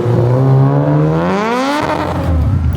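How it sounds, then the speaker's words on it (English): Supercharged K20A-powered Honda Civic EG hatchback doing a burnout, a loud close engine wail rising steadily in pitch as it revs hard, then dropping off and rising again. "It sounds great, but the car is just, it looks too clean to be doing a burnout."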